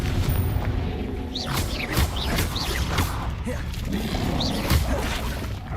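Loud spell blasts and booming impacts from Confringo casting in the video game Hogwarts Legacy, several heavy bursts over dense, continuous combat noise.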